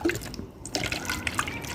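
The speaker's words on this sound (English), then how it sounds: "let's pour the water in" Water is poured into a pink oobleck mixture, making soft irregular splashes and dribbles at moderate loudness, with no talking.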